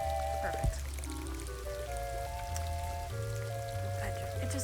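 Water splashes and pours from a furniture item in Animal Crossing: New Horizons, a continuous soft trickling patter under a light, steady game music melody.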